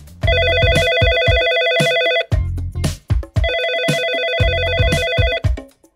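Repeated telephone ring tone of a call placed to a hospital, loud and close: two long bursts of electronic ringing separated by a short pause, with no talk over it.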